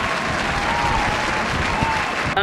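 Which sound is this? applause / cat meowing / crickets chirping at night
applause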